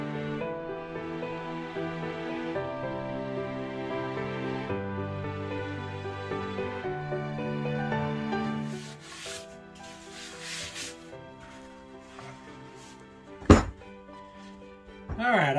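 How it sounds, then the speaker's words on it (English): A random orbital sander with 80-grit paper works a surface in a steady whirring buzz that shifts pitch with pressure, then drops away, leaving light rubbing and a sharp knock. "This is 80 grit with the random orbital, so here we go."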